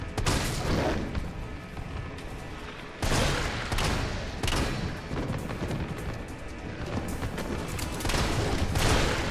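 Rapid gunfire from the video game Resident Evil 3 Remake, dense bursts of shots and booming impacts filling the whole stretch, loud and continuous with brief breaks around three and four and a half seconds.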